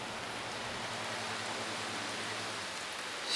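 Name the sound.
rain falling outside a house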